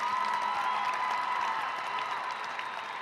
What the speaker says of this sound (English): Please give these seniors a round of applause